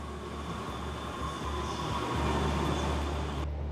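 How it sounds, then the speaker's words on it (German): Trains run on the tracks beneath the Musée d'Orsay in Paris, giving a steady, continuous rail rumble with faint tonal whine throughout, swelling slightly toward the end before cutting off abruptly. "Auch heute noch fahren Züge unter dem Musée d'Orsay."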